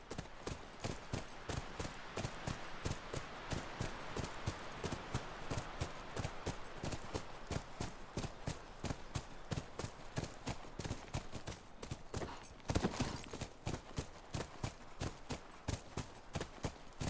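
Horse hooves clip-clopping in the video game The Last of Us, a steady, evenly spaced trot that keeps up the whole time at a fairly quiet level.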